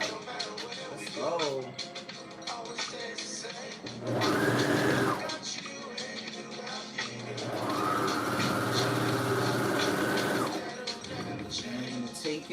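A sewing machine runs two short bursts of stitching while sewing handmade sweatpants, each a loud, even mechanical whir, with brief clatter and voices in the quiet gaps between.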